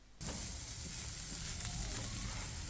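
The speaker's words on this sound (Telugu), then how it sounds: "బాగా వేగిన తర్వాత వేరుశనగలు వేయాలి వేయించాలి" Peanuts are dropped into hot oil and set off a sudden, loud sizzle that holds steady and close for a few seconds, with no talking over it.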